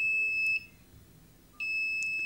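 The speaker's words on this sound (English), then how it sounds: "you can see that buzzer is working with this Arduino" Two sustained high-pitched electronic beeps from a buzzer on an Arduino SIM808 mobile phone, separated by a short pause, clear and fairly close in a quiet room.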